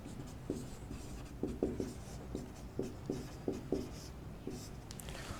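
Chalk or marker writing on a board in a geography classroom, a run of short scratchy strokes in uneven bursts, fairly faint, with no talking over it.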